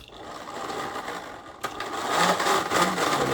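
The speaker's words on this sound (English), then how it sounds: "see if this impact wrench is able to turn this" Impact wrench driving a 3D-printed high-ratio gearbox, a steady whirring motor drone that rises louder after a sharp clack partway through, with a jumping gear adding rattling, no talk.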